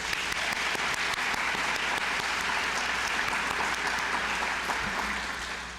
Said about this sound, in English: Let us give them another round of applause for the amazing video that our Right Track interns have